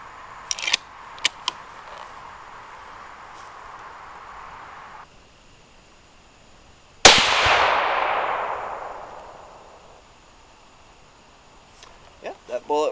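A single loud .308 rifle shot firing a Hornady 168-grain BTHP match bullet outdoors, a sharp crack with a long fading roll of echo, preceded by a few light metallic clicks.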